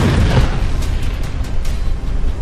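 A dense, rumbling explosion blast with continuous roaring debris noise fills the whole stretch, loud and sustained without a clear single onset, reported as an Azerbaijani strike in Nagorno-Karabakh.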